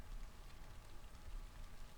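Rain falls steadily in a top-down football video game, a soft, even hiss with no voices.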